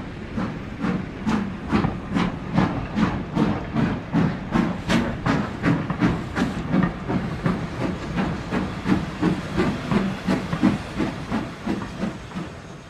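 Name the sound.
LNER V2 Green Arrow steam locomotive running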